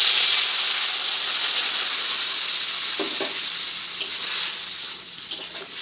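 Water poured into a pan of fried spiced ridge gourd and potatoes sizzles and steams loudly at first, a dense steady hiss that gradually softens, with a few faint clinks of stirring.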